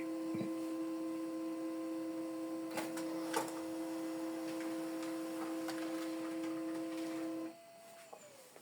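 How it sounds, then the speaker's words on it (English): An HP LaserJet M107W laser printer prints double-sided with a steady mechanical hum and intermittent clicks, then stops near the end, leaving a quieter room. "When the printer stops printing"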